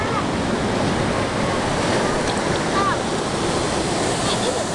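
Ocean surf at Royal Palm State Beach washes in a steady, continuous roar of breaking waves, with faint voices of people talking nearby.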